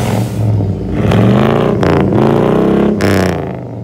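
A 1997-1998 Chevrolet with a 5.7 V8 engine revs hard close up, a loud rumbling roar rising and falling through several throttle blips with mechanical clatter.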